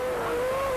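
Formula 1 race cars from the 1992 season launch off the grid at a green-light start: a loud, sustained high engine whine with a steady pitch dominates, and no voices are heard.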